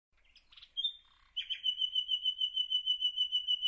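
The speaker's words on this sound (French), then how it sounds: "on va garder ce joli chant en fond sonore pendant quelques temps. Merci le rossignol." A nightingale sings near a garden worm composter, a few soft twittering notes followed by a long, bright whistled trill that pulses rapidly and evenly, clear and alone against a quiet background.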